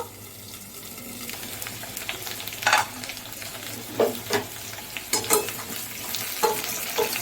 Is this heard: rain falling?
no